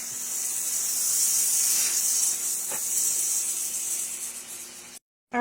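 Garlic and onion for pasta cooking in a pan, giving a steady loud sizzle and hiss that holds for about five seconds and then cuts off abruptly.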